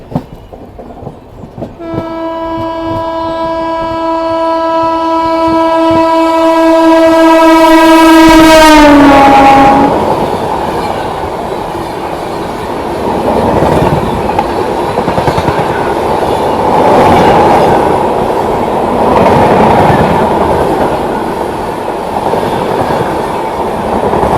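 A loud, long train horn blares as the Kerala Superfast express enters a small station, then the heavy rumble and rhythmic clatter of passing rail cars continues close by for many seconds.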